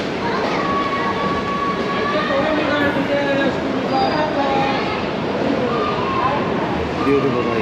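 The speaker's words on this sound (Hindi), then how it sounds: "प्लेटफॉर्म से निकलते ही ट्रेन ने अपनी रफ्तार पकड़ ली है" Bilaspur Rajdhani Express train gathering speed after leaving Gondia Junction, a loud continuous rumble and rattle of wheels on rails with faint squeals, heard steadily from inside the coach, with a voice talking over it.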